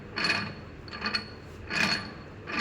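Sun and star gears of a vehicle differential are turned by hand in a teaching demonstration, giving three separate short rasping, grinding bursts of metal gear teeth meshing, close up and fairly quiet.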